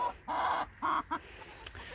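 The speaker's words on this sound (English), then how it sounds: "This is all of our chickens." Backyard hens, part of a flock of fifteen hens and one rooster, cluck in a few short, nasal bursts close by, then fall quiet. No one talks.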